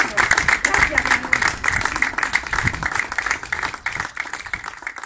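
Audience applause at a monument unveiling against gender violence in Lumbrales: dense, continuous clapping from a crowd that carries on for several seconds, with a voice talking over it.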